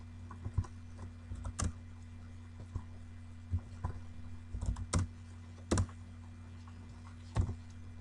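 Computer keyboard keys pressed to take a print screen, a scattering of sharp, separate clicks over a low steady electrical hum, close by and with no talking.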